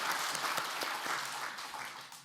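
A short burst of applause from a church congregation in a reverberant hall, moderately loud and fading out after about two seconds.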